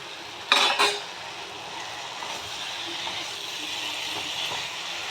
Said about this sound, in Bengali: এবার দেখো যে কপিগুলো ভেজে রেখেছিলাম সেই কপিগুলো আমি এর মধ্যে দিয়ে দেবো।